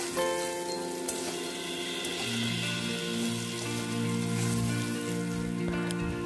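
Amaranth stalks, potato, a dried chilli, bay leaf and whole spices frying in hot oil, a steady close sizzle and crackle with a tonal hum beneath.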